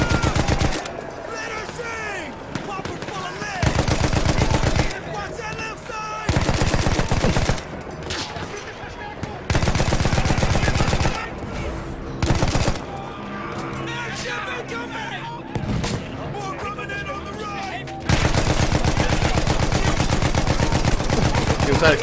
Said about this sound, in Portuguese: Usar aqui a machine gun.